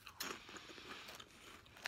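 A soft puffed corn snack from Ukraine being chewed close up: quiet, airy crunching with a few sharper bites at the start and the end.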